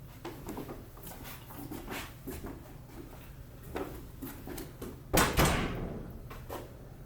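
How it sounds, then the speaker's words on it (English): A wood door in a steel frame is swung and shut, with soft scuffs and taps early on and then a sharp, solid closing thud about five seconds in, heard close in a quiet room. "We're going to check the door to see if it still swings well"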